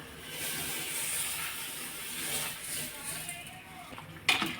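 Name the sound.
water boiling in pot for chicken biryani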